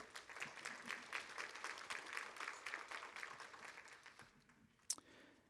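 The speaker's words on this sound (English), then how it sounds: "I want to give them a round of applause as well." An audience at a governor's small business summit in Abilene applauds educators with steady, dense clapping from a crowd, then it trails off into quiet with a single sharp knock near the end.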